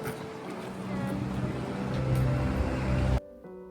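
A hop-on hop-off canal cruise boat in the Netherlands gives a steady low engine drone with a wash of water and rushing air, which ends abruptly.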